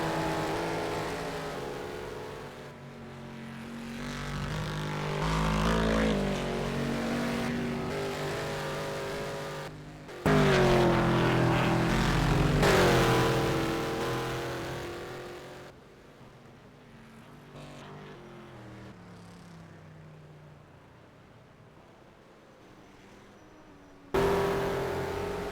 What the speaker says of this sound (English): As cars still going round on circuit.